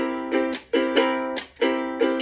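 A ukulele strummed quickly in a repeating 12-bar blues pattern in C, with sharp percussive slaps cutting off the ringing chords several times, close and alone.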